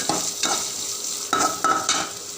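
Chopped onion hitting hot oil in a pan and being stirred, crackling and sizzling steadily with several bursts of stronger frying as the spoon moves, close and fairly loud, no talk.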